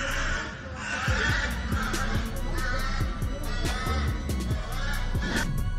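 A large flock of angry crows caws harshly and repeatedly, attacking someone outdoors. The calls come in quick, overlapping bursts over a dense, noisy background.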